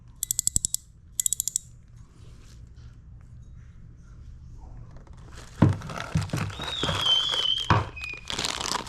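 The handle of a new Shimano Stradic SW 8000 spinning reel is turned in two quick bursts of fast, crisp clicking near the start, followed by quieter rustling, handling noise and a few faint squeaks.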